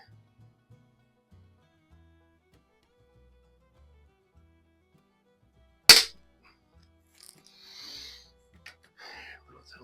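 A single sharp crack of a Crosman .177 air rifle shot, loud and close, following near silence and trailed by faint indistinct talk.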